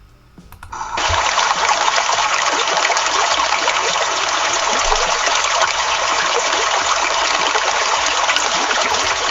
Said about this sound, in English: Next is flowing water.